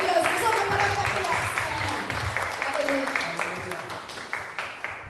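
Congregation at a Sunday service in an Assembly of God church claps together, sustained applause with individual claps standing out near the end, under a faint voice.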